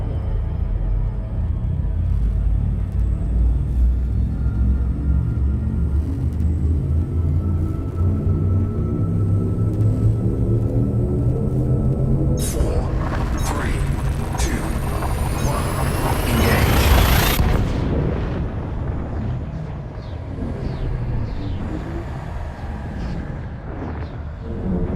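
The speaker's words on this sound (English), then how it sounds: "Frameshift drive charging." A spaceship's frameshift drive charges in Elite Dangerous, a long layered rumble with rising tones that climb steadily and peak in a sharp sweep before settling into a lower drone, with a synthetic voice announcement over it.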